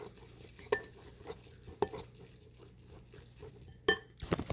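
A fork stirs and scrapes in a dish, giving quiet, scattered metallic clinks with a few sharper taps, close and alone.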